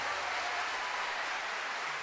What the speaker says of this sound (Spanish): ¿Alguien puede darle más fuerte ese aplauso al Señor?